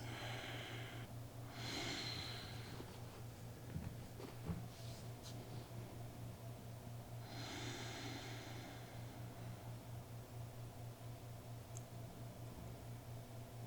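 Slow yoga breathing, faint and close, with long soft inhales and exhales spaced several seconds apart over a low steady hum.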